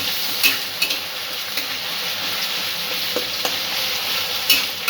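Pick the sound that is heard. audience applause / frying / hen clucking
frying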